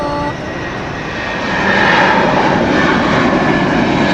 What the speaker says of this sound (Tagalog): Nag-aabang naman tayo ng aeroplano.